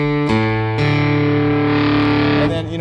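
A sustained distorted electric guitar tone rings out with buzzy harmonics, shifting pitch a couple of times before fading.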